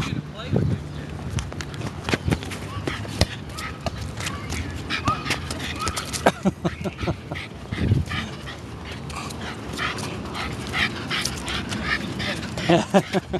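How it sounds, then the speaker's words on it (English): A dog scampers and whimpers outdoors in Florence, Italy, with a ball being kicked around, paws and small yelps mixing with nearby people talking throughout. "He's a wonderful dog."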